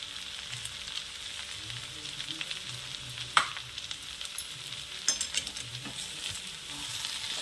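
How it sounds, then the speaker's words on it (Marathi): Toor dal and spring onion greens sizzle softly in a pan on the stove while being stirred, a steady low frying hiss broken by a few light scrapes and taps of the spoon. "आणि छान असं मिक्स करून घ्यायचं आहे"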